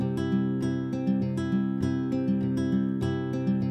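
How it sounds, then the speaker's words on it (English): UJAM Virtual Guitarist SILK acoustic guitar on its steady setting, strumming chords in a steady rhythmic pattern with a natural, microphoned tone, clear and up front with no other sounds. "Just sounds like a microphoned guitar."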